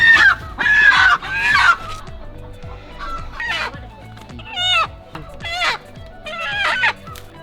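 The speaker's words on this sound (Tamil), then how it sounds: "இப்போ இதுக்குள்ளே நமக்காக ஒரு கோழி வெயிட் பண்ணுது." Village country chickens in a coop cluck and squawk in loud, close bursts, with a rooster-like crow among the rapid, overlapping calls.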